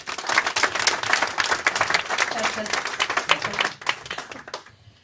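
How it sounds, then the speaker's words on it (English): A room full of people applauding at a distillery launch party in Lisbellaw, dense clapping that fades out toward the end. "So give her a big round of applause."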